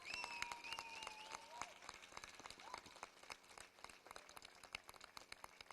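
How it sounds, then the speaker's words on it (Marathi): A theatre audience at a Marathi thriller drama applauds loudly for the set builders, with dense, steady clapping filling the whole stretch and a few whistle-like tones rising above it early on. "त्यांच्यासाठी जोरात टाळ्या वाजवा"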